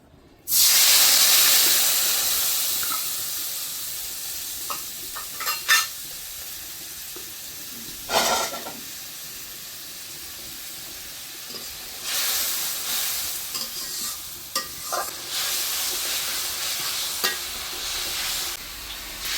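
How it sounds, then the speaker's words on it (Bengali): Mixed spice paste, blended with a little water, sizzles loudly as it drops into hot oil for a potato and pointed gourd fish curry, a strong hiss at first that settles into steady frying with stirring scrapes and bursts of spitting. "এখন মিক্স করা মশলাটা তেলে দিয়ে দেব।"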